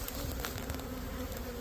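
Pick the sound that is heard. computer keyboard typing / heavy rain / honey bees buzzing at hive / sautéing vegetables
honey bees buzzing at hive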